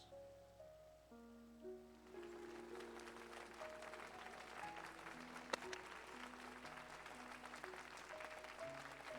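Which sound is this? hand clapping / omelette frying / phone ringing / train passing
hand clapping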